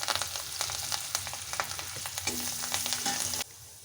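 Garlic and fresh coriander sizzle in hot oil for a dal palak tempering, a soft, steady crackling fry with stirring that stops abruptly near the end.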